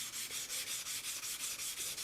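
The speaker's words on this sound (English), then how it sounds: "So I'm going to continue sanding for probably the next 4 hours or so." Fine sandpaper rubbed by hand over a computer case being prepared for custom paint, a steady hiss in even back-and-forth strokes about five per second, close and continuous, no voices.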